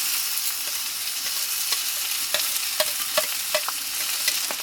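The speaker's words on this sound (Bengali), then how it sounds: "এবার কেটে রাখা কুমড়োটাকে আমি দিয়ে দেবো" Chopped ash gourd sizzles in a hot pan as it is stir-fried, a bright steady hiss with small spatula scrapes and pops at irregular intervals, close and alone.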